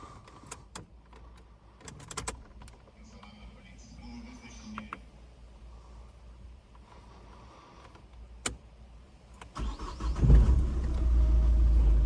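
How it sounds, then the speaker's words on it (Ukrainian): A small electric motor from an Opel Astra/Zafira 1.7 CDTI turbo whirs in short bursts with scattered mechanical clicks, ending in a louder rumbling stretch; a voice may be faintly present. "Ще покажу, як працює двигунчик."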